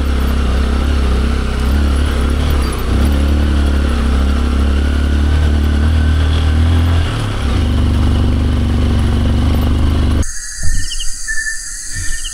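A motorcycle rides along a remote mountain route in Mindanao, its engine droning loud and close for about ten seconds with rattling clatter before cutting off into quieter outdoor ambience.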